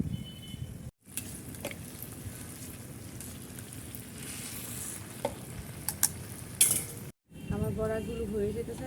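Jackfruit fritters fry in hot oil with a continuous close sizzle, punctuated by clinks and scrapes of a utensil stirring, and two brief silent gaps.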